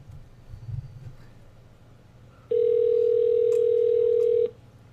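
A steady telephone dial tone comes on after a hung-up call and holds for about two seconds before cutting off, following faint room noise and a brief muffled sound.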